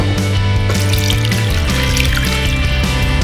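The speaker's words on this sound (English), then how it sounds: "just pour it" Chicken tomato soup pours steadily through a strainer, a close, continuous liquid splashing and trickling sound with no talking.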